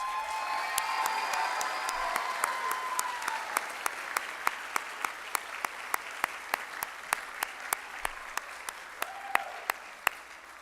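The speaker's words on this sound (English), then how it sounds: "You can give them a round of applause." An audience at a school spring play claps steadily for about ten seconds, a dense wash of applause with a few sharper individual claps standing out, with no speech.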